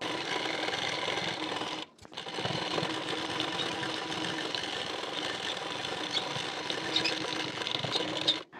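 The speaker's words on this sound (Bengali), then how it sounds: "দাগ বরাবর ফিটিং সেলাইটি দিয়ে নেব।" A sewing machine runs a fitting seam on a size 34 elite-cut blouse, a close, steady mechanical whir with a brief pause near the two-second mark before it resumes and continues.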